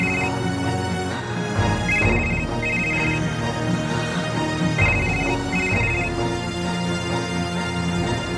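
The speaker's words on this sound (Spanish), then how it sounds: "Doctor, su teléfono. Déjelo que suene." A telephone rings repeatedly in a doctor's room, a close, steady electronic trill in regular bursts over a busy background.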